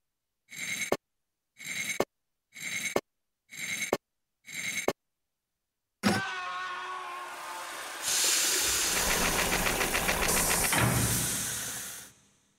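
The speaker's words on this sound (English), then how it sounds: "A hydraulic mechanism," A hydraulic mechanism in the video game Dracula: Origin gives five short, evenly spaced hissing bursts, then a long, loud, continuous hiss that swells and churns before cutting off.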